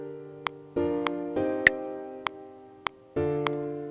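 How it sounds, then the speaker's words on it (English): A metronome clicks in a steady, evenly spaced pulse, sharp bright ticks cutting over a sustained synth chord progression that changes every couple of beats, clear and close with no voices. "let me turn on the metronome so you guys can better hear the up and the down beats"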